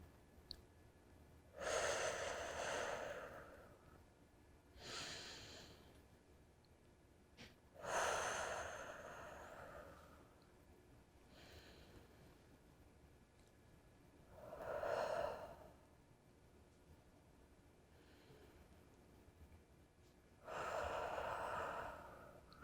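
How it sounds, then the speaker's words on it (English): Slow, deliberate breathing, drawn in through the nose and let out through the mouth, in about five long airy cycles several seconds apart, close and quiet with no talking. "And as you move up, you inhale, which means breathe in through your nose. And as you move down, you exhale, which means breathe out through your mouth."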